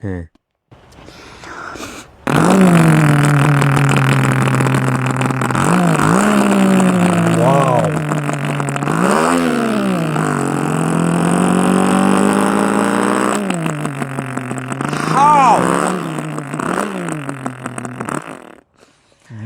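A voice imitates a Suzuki Samurai motorcycle engine, a sustained buzzing drone with repeated revving swells and rising pitch sweeps, loud and close, stopping near the end.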